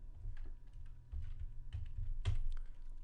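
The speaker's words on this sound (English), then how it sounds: "Type in your new name and hit the return or the enter key" Someone types a track name on a computer keyboard in Ableton Live, a short run of soft, close key taps in an uneven rhythm over a low room hum, with no speech.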